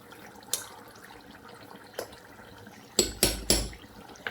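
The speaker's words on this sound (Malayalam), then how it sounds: "ഞാൻ ഇങ്ങനെ ഇടയ്ക്ക് ഇങ്ങനെയൊക്കെ സ്പൂണിട്ട് ഇങ്ങനെയൊക്കെ ഒന്നാക്കിക്കണം" Metal spoon clinking and scraping against a pan while stirring prawn pickle, with a few separate taps followed by a quick cluster of three sharp knocks near the end.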